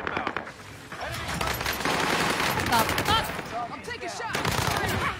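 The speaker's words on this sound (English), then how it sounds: "I want the airstrike here." A video game airstrike erupts in rapid gunfire-like bursts and crackling blasts, loud and sustained, with a voice talking over the barrage.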